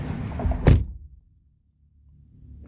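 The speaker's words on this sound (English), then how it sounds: "Let's slam the door." A single heavy thunk of a 2017 Dodge Ram 1500 5.7 pickup truck door slamming shut, loud and close, followed by near silence and a faint low hum returning.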